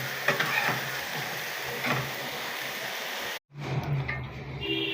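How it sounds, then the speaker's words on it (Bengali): Chicken pieces lightly frying in a pan for biryani, a steady close sizzle with a few stirring scrapes and a brief break near the end before the frying resumes. "এই যে এভাবে একটু হালকা ভেজে নেবেন, যাতে মাংসটা বিরিয়ানির ভিতরে সাদা না চিনে"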